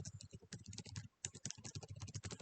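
Rapid typing on a computer keyboard while entering a surname into a new email contact, a dense run of close, crisp key clicks with one brief pause and no voice.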